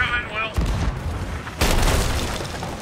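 Two heavy booms of ship cannon fire in the game Sea of Thieves land about a second apart, each a sharp blast with a rumbling tail, over faint background noise.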